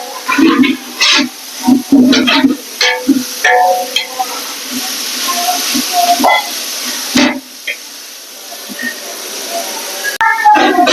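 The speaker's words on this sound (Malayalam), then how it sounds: "ഇതിന് പച്ചമണം മാറുന്നവരെ വഴറ്റുക." Masala for Kunnamkulam chicken biryani sautéing in a pan, with a steady sizzle, clattering spoon strokes and scraping close by, and voices talking at times.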